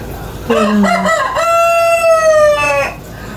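A rooster crows loudly and close by, one long drawn-out call with a rising start and a sustained, wavering finish.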